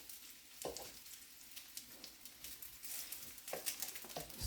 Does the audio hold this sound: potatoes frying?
yes